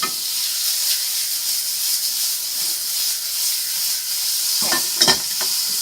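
Hollandaise sauce is stirred in a hot pan, giving a steady hiss and sizzle throughout with a few scraping strokes near the end; one short spoken word occurs.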